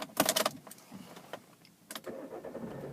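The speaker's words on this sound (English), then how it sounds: "And if we get the car started," A used car with two sets of keys jangles briefly near the start, then its engine cranks and catches, settling into a low, steady idle close by with no talking.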